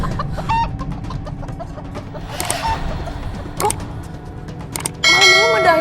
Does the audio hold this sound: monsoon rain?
no